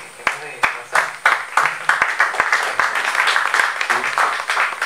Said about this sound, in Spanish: eso amerita otro aplauso para el Partido Comunista y auténtico